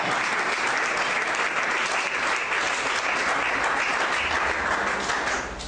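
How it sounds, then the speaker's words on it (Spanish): Sustained applause from a church congregation during a Spanish-language sermon, steady dense clapping filling the room for several seconds and tapering slightly at the end. "Un aplauso al Señor por esta mañana."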